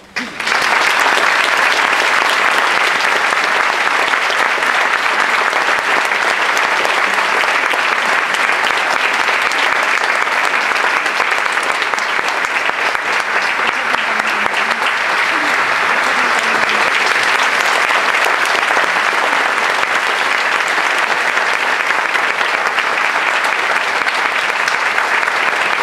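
Steady, dense applause from a large audience after a keynote speech at a recognition ceremony, loud and unbroken for the whole stretch with no talking over it.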